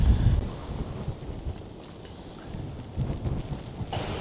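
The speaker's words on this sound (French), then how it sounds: "Vous voyez, ça commence déjà à souffler." Strong wind gusts roar around a house, rumbling and buffeting in a dense, steady wash with slow swells and no voices.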